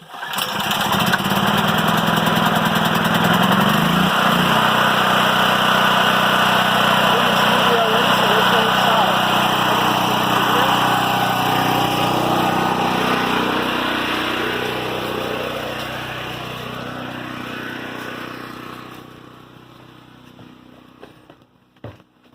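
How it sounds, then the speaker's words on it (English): A portable generator for a house hookup starts and runs loud and close, with a steady engine drone. The note eases lower partway through as the choke is adjusted, then fades near the end. "We're going to start it up, and then we're going to adjust our choke so it's running smoothly."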